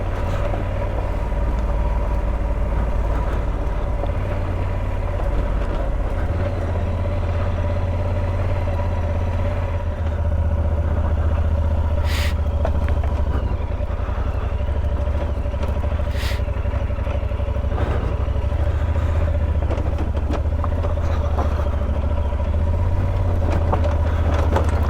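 An adventure motorcycle rides off-road over gravel on a Wyoming backcountry route, its engine a constant low rumble with faint crunching of stones, steady and close throughout.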